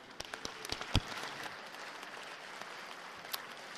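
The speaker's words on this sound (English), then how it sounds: "I would really appreciate it with a round of applause" Members of a state House chamber applaud business leaders and youth, a short burst of scattered claps that quickly thins into a few quiet, isolated claps over room noise.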